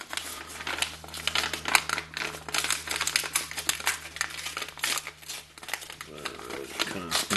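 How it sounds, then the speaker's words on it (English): A paper mail envelope carrying a baseball card return is gripped and torn open, giving close, loud crinkling and ripping paper bursts throughout, with a voice speaking over part of it. "Kind of messing the envelope up"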